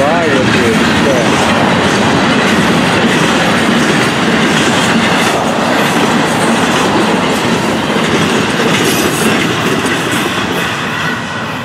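A Florida East Coast Railway freight train, number 101, rumbles past close by on a hot July afternoon in East Central Florida, a loud continuous roar of wheels clattering over rail joints.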